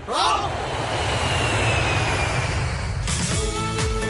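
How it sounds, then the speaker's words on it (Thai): An airplane's engine roars as a steady, loud, broadband drone that fills the whole clip, with a rising whine near the end. "เครื่องบิน"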